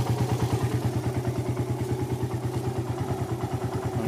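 A Suzuki Satria motorcycle engine idles steadily close by, its low, even pulsing thrum running the whole time without a break and with no one talking over it.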